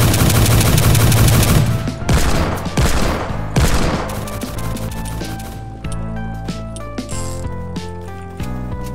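Rifle and steampunk cannon gunfire in the Roblox game Base Battles: loud rapid bursts of shots and sharp cracks, dense at first, then thinning into scattered blasts and tonal game effects.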